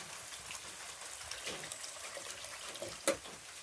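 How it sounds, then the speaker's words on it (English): Water pours steadily from a container into a pot of beans for a bush-cooked stew with smoked pork hock, a soft continuous gushing with a sharp clink near the end. "Now I'm gonna put it here, and I'm gonna pour some water in there."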